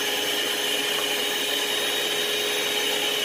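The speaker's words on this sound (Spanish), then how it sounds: "le vamos a subir todo lo que da la batidora" A small electric kitchen mixer runs at full speed beating sugar and eggs for a coconut sponge cake, giving a constant high-pitched motor whine, close and steady with no talking.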